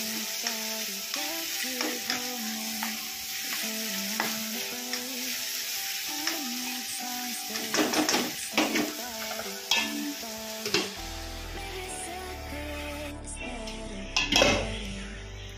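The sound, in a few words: onion and tomato frying and being stirred in a pan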